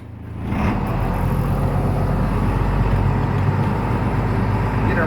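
An old Blue Bird bus, flooded and left standing since January, pulling away after its brakes are released, a deep engine rumble rising and then holding steady, close and loud with no talking.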